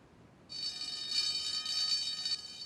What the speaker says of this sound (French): la sonnette d'alarme retentit à nouveau